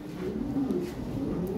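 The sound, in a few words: pigeon cooing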